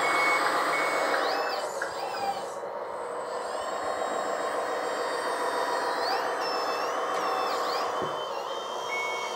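Reversing beeps from an RC hydraulic loader fitted with an RC16 sound system repeat steadily and loudly over a continuous engine-like drone for the whole stretch.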